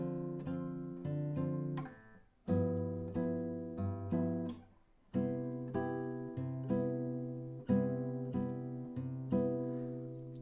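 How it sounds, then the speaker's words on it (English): Bossa nova chords strummed on guitar in a jazz style, a syncopated pattern of plucked bass notes and chord hits with short pauses between phrases, close and fairly quiet with no talking. "when you put together left hand and right hand, it will sound like this for the bossa nova"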